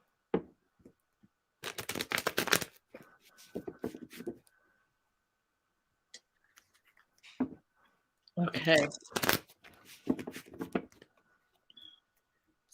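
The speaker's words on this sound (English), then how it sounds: "My shuffling on here. It is pretty loud." Tarot-style cards shuffled for a reading, loud riffling bursts in two main clusters with quiet gaps between, close to the microphone, and a voice speaking briefly in between.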